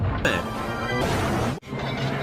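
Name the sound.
toy train crash in Thomas and Friends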